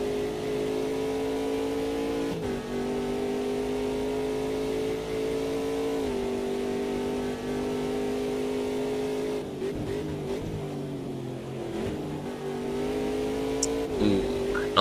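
A GT4 race car at Interlagos holds a steady high engine drone through a long acceleration, then dips in pitch as it downshifts, with the revs briefly stepping down several times.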